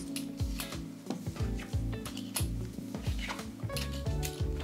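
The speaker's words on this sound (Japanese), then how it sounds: "一応小銭の方もちょっと入れてみたいと思います" Yen coins clink and rattle as they are slipped into a thin SYRINX Hitoe Fold Less leather wallet, giving a close, busy run of small metallic taps and scrapes.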